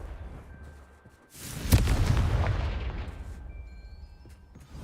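The Confringo explosion spell in Hogwarts Legacy bursts into a rumbling, roaring boom that swells and slowly fades over a couple of seconds against quiet game ambience.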